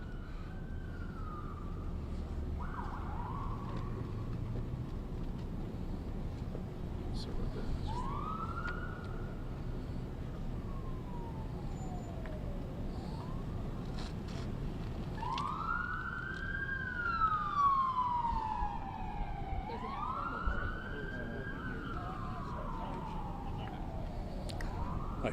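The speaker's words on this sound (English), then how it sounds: "I'm going to wait for the siren" An emergency vehicle siren wails and yelps outdoors, rising and falling in repeated sweeps that swell louder as it passes near, then trail off, with faint background noise underneath.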